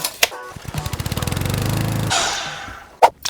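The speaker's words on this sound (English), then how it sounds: "Now we'll take that piece and head over to our miter box and get it cut to 7 inches." A power saw cuts through a wood piece cut to length in a woodworking shop, a loud rising whine with rapid chattering pulses lasting about two seconds before it spins down, followed by a short sharp knock.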